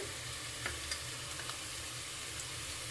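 Onions for chicken biryani fry to golden in a pan, a soft continuous sizzle with a few light stirring taps, fairly quiet and without any voices.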